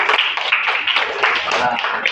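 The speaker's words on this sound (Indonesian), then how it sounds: "Tepuk tangan." Group hand clapping in a classroom, dense overlapping claps that keep a steady, fairly loud texture for about two seconds, with some voices mixed in underneath.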